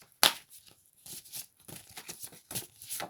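A deck of oracle cards being shuffled close up, opening with a sharp riffle burst followed by several softer papery slides and flicks in an irregular rhythm, with no talking.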